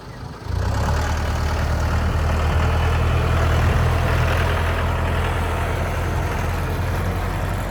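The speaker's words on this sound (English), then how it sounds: "We got a tractor here." Tractor engine idling nearby with a steady, heavy low rumble that starts abruptly and holds constant throughout, with no talking over it.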